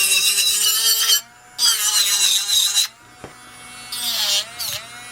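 A portable nail drill grinds off nail product in loud, high whirring bursts of about a second each, separated by brief pauses, with pitch dipping as pressure is applied.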